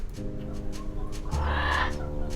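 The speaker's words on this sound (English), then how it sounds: "Oh, bird!" Synthesized bird calls from a music preset named Rico, a run of chirpy clucking, rooster-like squawks over a sustained harmonic drone, rising into a brighter warbling burst near the end.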